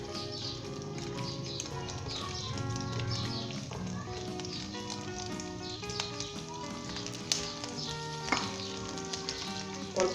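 Green chilies and ginger sizzle and fry in hot oil for a Punjabi potato and okra curry, a steady close crackle with occasional stirring clicks and pops.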